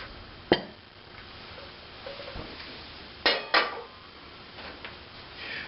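Dishes and cutlery clinking while plates of pinto beans and cornbread are served, a few sharp close clanks and scrapes spaced out over a quiet kitchen background.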